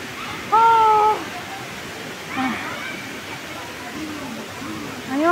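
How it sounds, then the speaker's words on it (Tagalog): Steady rushing water from the waterfall at Nangoloan Falls forms a constant broadband roar beneath the whole clip, with people talking and exclaiming over it. "Ayun, sa baba yung waterfalls."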